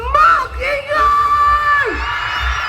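A big street-party crowd at the Bangus Festival in Dagupan yells and whoops together in loud sustained shouts, with prominent voices rising over a steady low thumping beat.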